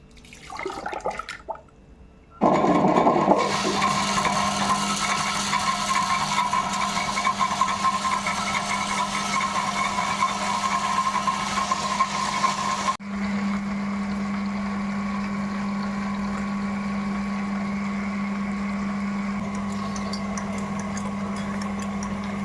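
A wet grinder grinding soaked black kavuni rice for idli batter starts up and runs steadily with a loud, constant motor drone and rumbling churn, shifting pitch partway through.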